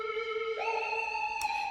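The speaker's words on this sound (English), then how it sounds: "you get this pitch modulation, which is this." Synth lead patch built from Logic Pro stock plugins, holding a steady bright tone that steps up in pitch partway through, with a brief burst of added brightness near the end. It plays alone, clean and sustained.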